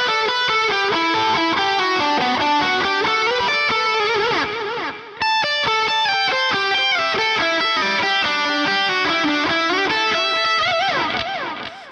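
Electric guitar with distortion and effects plays two shred-style rock solo licks at a slowed pace, fast melodic note runs with vibrato sustained loud and continuous, a brief dip midway between the phrases.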